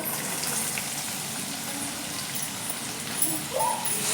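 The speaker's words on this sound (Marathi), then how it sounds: "यात आपण कढीपत्ता टाकूया." Curry leaves drop into hot oil already holding cumin and mustard seeds, giving a steady, close, hissing sizzle with a brief sharper crackle near the end as the leaves hit.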